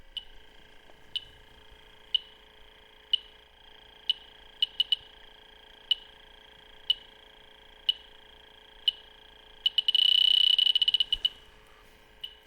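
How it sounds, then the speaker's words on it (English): A Fieldpiece SRL8 heated diode leak detector, sniffing for R-410A refrigerant at an HVAC coil, gives sharp electronic beeps about once a second. Near the end the beeps speed up into a dense burst, then they stop. "Next, we'll have the Fieldpiece SRL8 heated diode leak detector"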